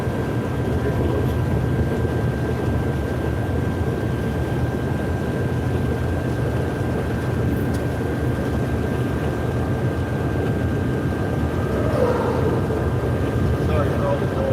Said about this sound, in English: Sorry for all the noise. My phone is charged right next to the engine.